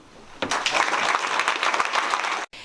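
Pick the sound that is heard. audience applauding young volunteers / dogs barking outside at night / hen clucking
audience applauding young volunteers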